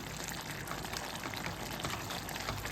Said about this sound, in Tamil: நல்லா கொதிச்சு வந்துச்சு பாருங்க